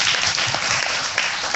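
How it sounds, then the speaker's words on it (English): Audience applause at an evening business event, a steady wash of clapping from a room of people lasting the whole short stretch at even loudness, with no talk over it. "Round of applause"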